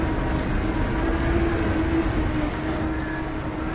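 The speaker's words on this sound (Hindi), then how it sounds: "इंजन बड़ा है भाई इनकी, साउंड ऐसे ही होगी," Big six-cylinder engine of a Kartar 4000 combine harvester in Farming Simulator 22, a steady low droning rumble with a faint whine, holding constant and alone throughout.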